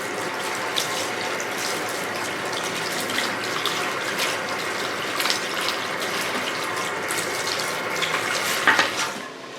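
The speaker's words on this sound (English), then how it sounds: "rinse till there's no red coming off the hair anymore" Running water pours steadily over hair as red dye is rinsed out at a hair salon, a continuous hiss and splash heard close up without talk.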